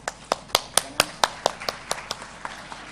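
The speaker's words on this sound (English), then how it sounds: "Once again, a huge round of applause for our speakers." Scattered applause from a conference audience for the speakers: a dozen distinct, evenly spaced claps that start strong and gradually thin out and soften.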